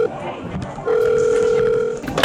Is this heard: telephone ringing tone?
yes